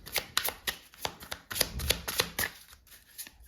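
A deck of tarot cards shuffled close up, with rapid riffling flutters and soft slaps of cards in quick repeated bursts, fairly quiet and without talking.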